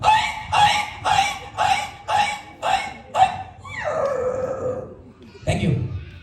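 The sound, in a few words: comedian imitating a dog yelping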